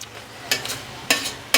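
Biryani being stirred and mixed in a pot, heard as three short bursts of scraping and clatter spaced about half a second apart, over a low steady background with no talking.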